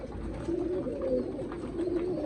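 Storman pigeons cooing in soft, repeated low calls, close by, with a steady background murmur and no talking.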